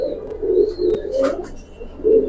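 A Giribaz pigeon at a pigeon market coos in a series of close, low, rolling calls, with faint chirps and a thin whistle in the background and no talk.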